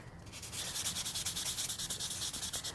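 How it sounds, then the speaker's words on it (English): Ultra-fine sanding sponge lightly rubbing over painted fruit decor pieces, a soft, close, rhythmic scratchy swishing with steady back-and-forth strokes, quiet and alone with no voices. "With an ultra-fine sanding sponge, I'm going to lightly distress some of these fruit pieces now"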